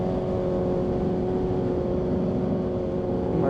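A Kawasaki ZX6R sport motorcycle cruises along a road, its engine a continuous loud droning hum mixed with wind rush, steady throughout with a slight rise at the end.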